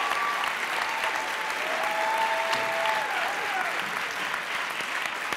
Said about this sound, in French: applaudissements pour Andrea